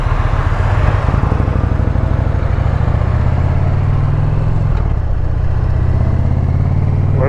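An Indian Pursuit motorcycle on the road gives a steady, loud, low engine drone with a faint shift in pitch partway through, heard close and continuously the whole time.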